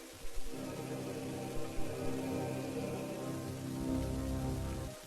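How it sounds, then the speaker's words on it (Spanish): Steady rain falls in a continuous even hiss on surfaces, moderately loud and unbroken for several seconds, with a few soft thumps near the start and no voices. "Y llovió."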